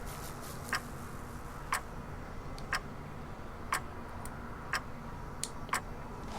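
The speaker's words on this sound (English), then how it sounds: "when you hear that timer going off, the little clicking" In the Bioshock video game, a smoke control timer clicks at a steady pace of about one tick per second, crisp distinct clicks over a low continuous background rumble.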